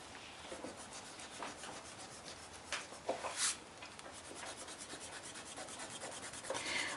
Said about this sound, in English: I'm going to rub out all the pencil line.